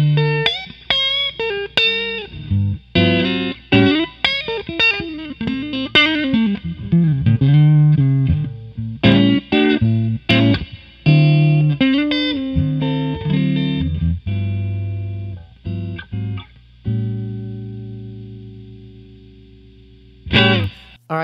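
An electric guitar played through a tweed-style amplifier rings out with distorted chords and single-note lines, loud and up close, with sustained notes and pauses between phrases.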